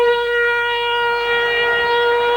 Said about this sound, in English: There's the full-time siren, a day of disappointment for Wales